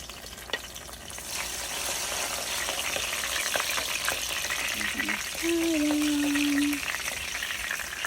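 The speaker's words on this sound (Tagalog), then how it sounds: "So, mag-gisa na tayo ng bawang." Garlic sautéing in a pan for pinakbet, a steady sizzle and frying hiss running throughout, with a brief voice and a sustained tone partway through.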